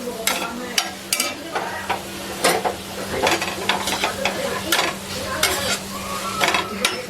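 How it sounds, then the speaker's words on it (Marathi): Food being stirred and fried in a pan for a home Marathi meal of kadhi and paneer bhurji: steady sizzle under repeated scraping strokes of a spoon against the pan, close and continuous, with no talk. "तर मी आता मिक्स करून घेते अगोदर हे बघा"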